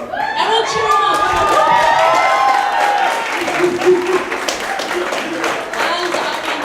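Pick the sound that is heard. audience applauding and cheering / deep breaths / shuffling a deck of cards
audience applauding and cheering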